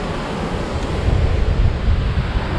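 Strong wind blasts the microphone on Hunting Island State Park beach while waves wash in, a loud, steady low roar of gusts and surf with no voices.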